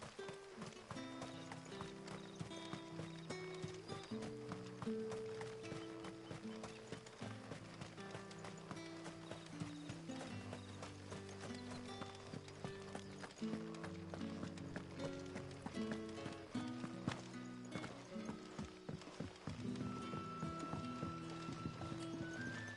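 Steady clip-clop of a horse's hooves trotting in Final Fantasy XVI, continuous rhythmic hoofbeats close by over a game music score, with no talk.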